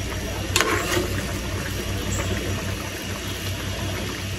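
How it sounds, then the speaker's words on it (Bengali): A pot of fish curry boils on the stove, a steady close bubbling and hissing with a faint water-like churn and a brief clink near the start. "কি সুন্দর করে টকবক টকবক করে বলক আসতেছে, দেখছেন?"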